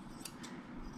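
Grooming scissors snip near the fur of a senior poodle, two quick, crisp cuts heard close up over a soft background hum.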